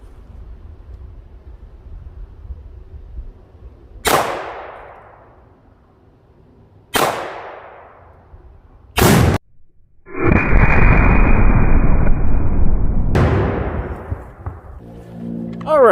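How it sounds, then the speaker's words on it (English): A rimfire rifle fires at White Lightning exploding targets, giving sharp loud cracks followed by decaying booms, one clipped blast, and a sustained roar of a larger explosion around two seconds long, with a final bang. "The target actually exploded."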